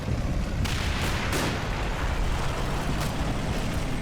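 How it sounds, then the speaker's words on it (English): Rifle gunfire in the World War II strategy game Combat Mission: Battle for Normandy, with a few sharp shots cracking over a dense, rumbling battlefield din that stays loud throughout. "Aiming, reloading, firing. You are indeed firing your rifle."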